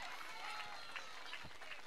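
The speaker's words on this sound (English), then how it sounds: "Fawad Sheikh, come on, keep clapping." Faint, steady clapping from a crowd at a hockey prize distribution ceremony, a distant wash of hands heard beneath a low murmur of voices.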